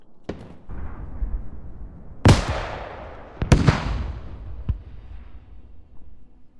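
Artillery rounds fired and landing in the military shooter Squad: several distinct, sharp distant blasts spaced a second or so apart, each with a rolling echoing tail over quiet background, plus smaller pops.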